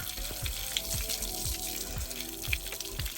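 A tap runs water to wet a stuck surface, a steady splashing flow with soft, regular drips and spatters close by, a faint voice in the background.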